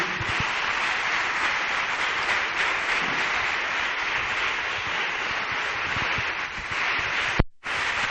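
A congregation clapping hands steadily during worship at a Torah study gathering, a continuous dense wash of many palms, evenly loud throughout, with a brief dropout near the end.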